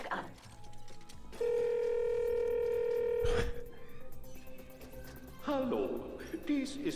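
Telephone dialing and a sustained tone in the video game Ratchet and Clank as a call goes to chairman Alonso Drake: a loud steady dial tone holds for about two seconds, then cuts out before a burst of higher electronic chirps, with no talk over it.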